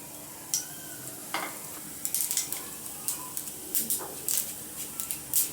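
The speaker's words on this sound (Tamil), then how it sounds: "எண்ணெய் நல்லா ஹீட் ஆனதும் எடுத்து வச்சுக்கிற கடுகு, நுணுக்கி வச்சுக்கிற மிளகு ஜீரகத்தை உள்ள சேர்த்துடலாம்" Mustard seeds, crushed pepper and cumin hitting hot oil, a low sizzle broken by a run of sharp crackling pops and spatters that grow busier toward the end.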